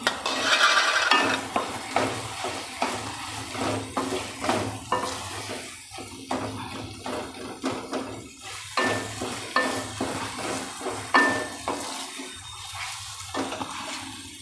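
Green onion sizzles in a hot pan while being stirred, with repeated scraping strokes over a continuous frying hiss, close and without talk.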